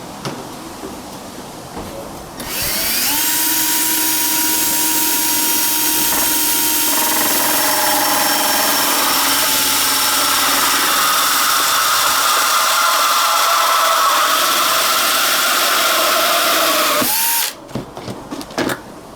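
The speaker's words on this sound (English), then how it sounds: "I drill a hole in it in order to hold my pellets" A power drill whines loudly and steadily for about fifteen seconds, its pitch wavering slightly as it bores a hole in a pigeon feed container, then cuts off abruptly.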